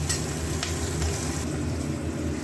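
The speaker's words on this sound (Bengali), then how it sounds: "এবার পেঁয়াজটা একটু ভেজে দিই" Onions fry in very hot oil left from frying fish, over a low gas flame, giving a steady, close sizzle that continues without a break and with no talking.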